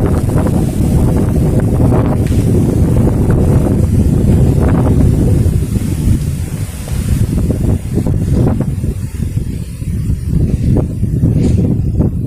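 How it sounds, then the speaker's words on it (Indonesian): Strong storm wind roars against the microphone in a steady, heavy rush, buffeting and gusting for the whole stretch with no voices. "Mas bro, anginnya kencang kali."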